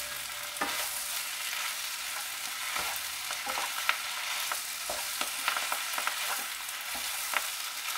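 Vegan pad ki mao noodles stir-fried in a wok, with a steady bright sizzle and scattered sharp clinks and scrapes of a utensil against the pan, loud and close, no talking.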